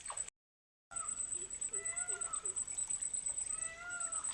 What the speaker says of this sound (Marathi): मोराचा आवाज बघा.